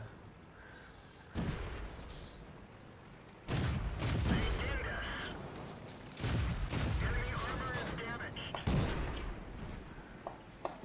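Several loud, sharp tank cannon shots ring out from a World of Tanks battle, spaced a couple of seconds apart, each with a booming report and rumbling tail, while someone speaks quietly between them.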